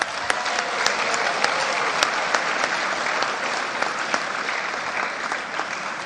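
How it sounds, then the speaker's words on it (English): Sustained applause from a school boosters award ceremony audience, dense and steady clapping filling the room for several seconds with no talk over it. "let's give a big, huge round of applause again to your extended fan base"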